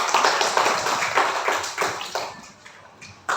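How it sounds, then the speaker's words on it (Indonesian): Several sharp hand claps in a classroom, a short run of bright, uneven claps that trail off, then one final clap near the end, with no talking over them. "Iya, tepuk tangan"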